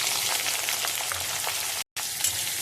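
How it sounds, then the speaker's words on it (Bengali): Cumin seeds and chopped onion frying in hot oil give a steady, close, crackling sizzle that continues throughout, broken only by a brief silent cut near the end. "জিরেটা ফোড়ন দিয়েই পেঁয়াজ কুচিটা দিয়ে দিলাম।"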